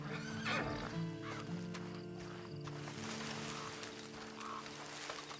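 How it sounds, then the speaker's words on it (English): A video game horse neighs loudly near the start, followed by snorts and shuffling hooves over a steady low hum. "Then you better get on this horse."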